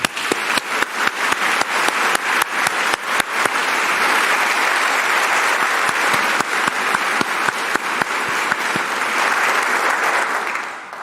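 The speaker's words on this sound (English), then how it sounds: "Let's give him a round of applause" A large convocation audience at Cal State Fullerton claps loudly and steadily in welcome for new faculty, staff and the university president, with a dense, continuous roar of applause lasting several seconds before tapering off.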